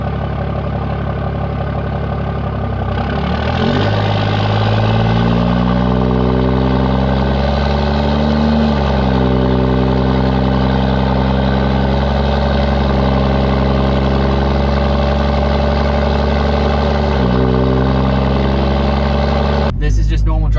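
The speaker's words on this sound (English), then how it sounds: "This is just normal driving." 2017 6.7 Cummins diesel swapped into a second-generation truck, driven normally, a loud close engine rumble that climbs and drops in pitch through gear changes, with a person talking over it.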